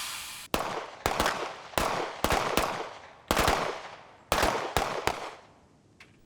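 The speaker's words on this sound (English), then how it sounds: "The first time the target's turned to face you, shoot twice." Handgun shots ring out at targets on a shooting range, sharp reports fired in quick pairs and triplets with short pauses between groups, loud and echoing against otherwise quiet surroundings.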